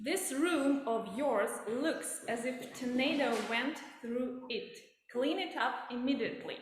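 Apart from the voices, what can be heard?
No everyday noises stand out.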